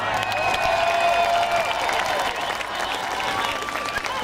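Crowd at an outdoor political rally in George Square, Glasgow, cheering and applauding together, a sustained wash of clapping and shouts heard from within the gathering, steady for several seconds.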